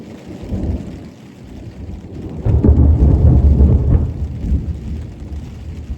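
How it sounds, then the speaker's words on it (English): Heavy thunder rolls loud and close over steady pouring rain in the western Canadian backcountry, swelling into a long deep rumble midway before easing back into the downpour. "Yep, a lot of lightning and thunder."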